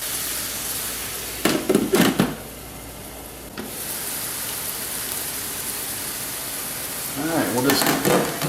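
Onion frying in a skillet for creamy beef stroganoff hisses in a continuous sizzle, with two brief bursts of stirring or scraping near the start and end, heard up close.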